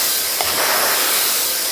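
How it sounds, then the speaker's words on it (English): Steady, loud airy whoosh of a hair dryer blowing throughout, with no voices over it. "you're just chasing the brush with your hairdryer and bringing it around"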